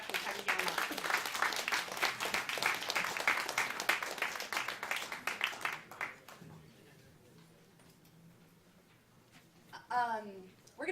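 Audience applause after a taiko drum and trumpet performance, brisk clapping that fades out midway, followed by quiet room tone and a voice speaking at the end.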